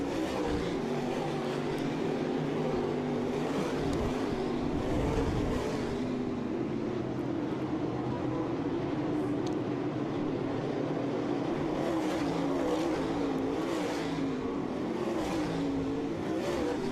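Race cars circle the oval at Southern Ontario Motor Speedway on a green flag run, their engines droning steadily at a distance, rising and fading in low passing sweeps with no one talking over them.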